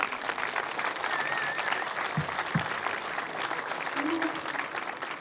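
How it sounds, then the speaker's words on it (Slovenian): Dense, steady applause from a concert audience in the historic setting of the Žiče Charterhouse ahead of a performance, continuous and even from start to finish with brief voices mixed in. "Za začetek en aplavz."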